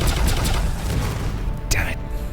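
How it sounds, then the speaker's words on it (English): Pulse lasers fire in the space battle game Sunrider Liberation Day, a dense rapid volley of loud, crackling bursts followed by a sharp burst near the end. "Pulse lasers."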